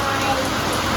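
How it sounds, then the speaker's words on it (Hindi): Heavy, continuous rain falls steadily in the mountains, a dense close hiss of drops pattering on surfaces during a monsoon downpour. "आज तो एक भी मिनट रुकने का नाम नहीं ले रही बारिश।"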